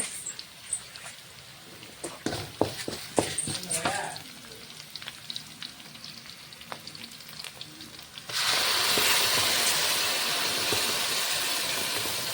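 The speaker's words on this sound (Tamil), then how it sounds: "தக்காளி பேஸ்ட்டு போட்டு நல்லா வதக்கிக்கலாம்." Tomato paste and a ground spice paste sautéed in a hot pan, with scraping stirs and clinks over a sizzle that swells into a loud, steady hiss as the wet paste hits the oil.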